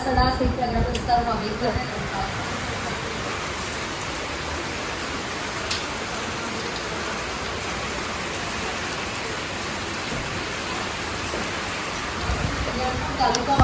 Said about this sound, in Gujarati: ધોધમાર વરસાદ ચાલુ થયો છે